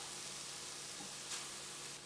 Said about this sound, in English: And just let these saute for a minute.